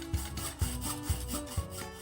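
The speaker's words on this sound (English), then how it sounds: "Using a hacksaw to cut thin tubular metal like this is perfectly fine, but it's slow going and takes a lot of effort." A hacksaw cuts through thin tubular metal in steady back-and-forth strokes, about four evenly spaced rasping pulls, close and moderately loud with no voices.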